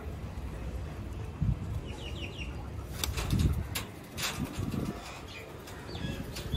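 Sialkoti pigeons coo softly in low, rolling calls, with occasional wing flaps and light rustling around them, fairly close and without speech.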